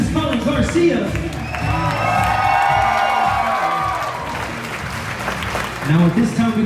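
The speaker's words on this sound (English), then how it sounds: "One more time, a big round of applause for Mr. and Mrs. Collin Garcia" Guests at a wedding reception break into applause and cheers for the newlyweds, a full room of clapping and whoops that swells and holds steady, then tapers slightly near the end.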